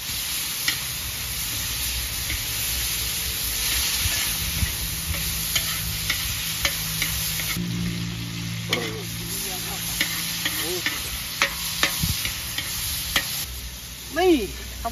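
Fresh tofu being stir-fried in a hot pan right after red chilies and rice go in, with a steady sizzle under repeated scraping and clattering stirs, close and fairly loud, no talking.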